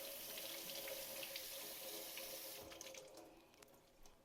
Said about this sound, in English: just rinse it off over at your sink.